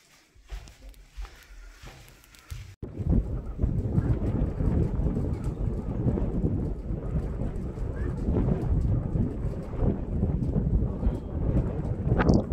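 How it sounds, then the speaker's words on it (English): Wind blows hard across an open site at Mizdakhan, Uzbekistan, a loud continuous roar and microphone buffeting that surges in after a short quieter start with some talk. "See the sound of the wind."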